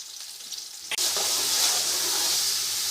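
Onion sizzles and fries in oil already browned from an earlier batch, a quiet low hiss that jumps to a loud, steady, dense crackle as the onion hits the pan, continuing close and unbroken.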